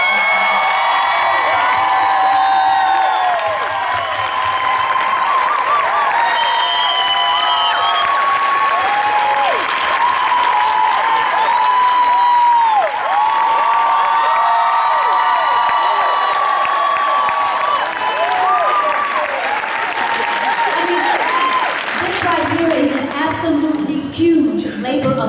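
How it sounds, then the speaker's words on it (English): A panel audience breaks into sustained applause and cheering for about 25 seconds, loud clapping with whoops and shouts, while a voice speaks over the crowd for much of it. "Can you guys give them a round of applause?"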